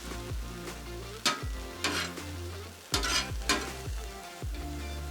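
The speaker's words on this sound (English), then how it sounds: "Taking a little bit of cook on it just to soften it up" Onions and a home-grown poblano pepper soften in a hot pan, sizzling steadily as a spatula repeatedly scrapes and stirs, producing several distinct bright clatters over the continuous frying hiss.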